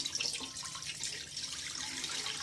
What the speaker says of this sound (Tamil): இப்போ நம்ம கரைச்ச மாவை அதில் ஊற்றுறோம்